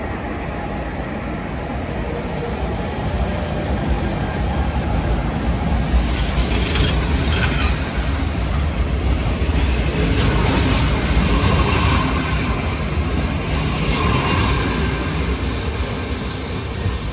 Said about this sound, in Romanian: Pleacă și trenul nostru către Cluj-Napoca și Baia Mare.